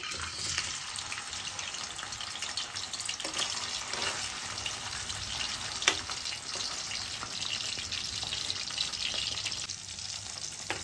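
Dried fish frying in hot oil in a kadai gives a soft, steady crackling sizzle, continuous and fairly quiet throughout, with small pops scattered across it and no talking.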